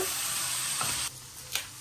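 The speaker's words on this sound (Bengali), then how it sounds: "এই যে এখানে আবার বসা দিচ্ছি করলা ভাজা" Bitter gourd fries in oil in a pan, giving a loud, steady sizzle with stirring scrapes. The sizzle drops off sharply partway through, leaving a quieter crackle and one brief clatter.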